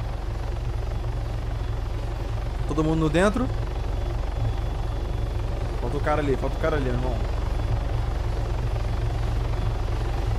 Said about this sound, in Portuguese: Por acaso o seu helicóptero tem paraquedas, cara?